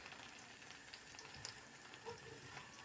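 Steady, faint sizzling of black bread cubes frying in oil over medium heat, a continuous crackle with small pops scattered throughout.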